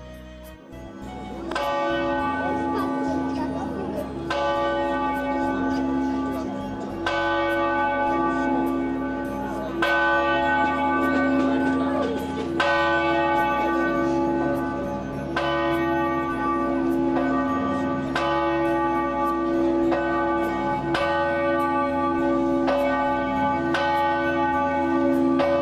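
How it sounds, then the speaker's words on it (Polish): A church bell tolls at noon for the Angelus during a Three Kings procession in Gdynia, its loud, steady strokes ringing out repeatedly and resonating continuously with no talk over it. "O 12:00 zabrzmiał dzwon na Anioł Pański."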